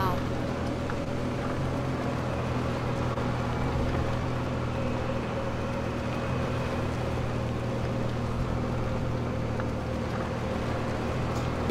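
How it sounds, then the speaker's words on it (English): Go-kart engine in the Fortnite video game, a steady droning motor hum running continuously at an even level throughout, with faint voices underneath. "It's me riding in the go kart."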